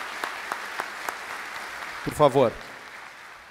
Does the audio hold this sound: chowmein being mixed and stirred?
no